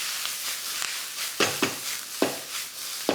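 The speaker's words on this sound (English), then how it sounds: "this is a quick stir fry" Chicken Manchurian stir-frying in a very hot wok: continuous loud sizzling with sharp bursts each time the food is tossed and stirred, close up and with no voices.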